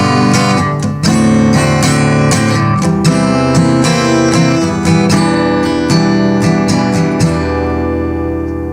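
Dominant seventh chords in G ring out one after another on a keyboard-like instrument, a steady run of full, sustained chords with brief breaks between them, loud and close, with no talking.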